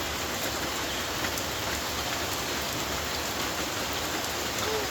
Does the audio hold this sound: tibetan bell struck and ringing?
no